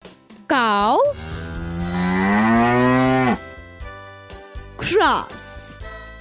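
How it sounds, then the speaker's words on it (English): A cow moos in a long, loud, drawn-out low call preceded by a short rising moo, with a brief lowing again near the end, set over a steady background music track. "Cow."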